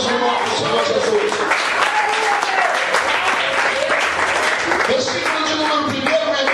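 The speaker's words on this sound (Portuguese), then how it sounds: "dá uma glória a Deus e aplauda mais uma vez o nome do Senhor Jesus." A church congregation applauds loudly during a Portuguese-language sermon, with dense continuous clapping filling the room while voices call out and a preacher speaks over it.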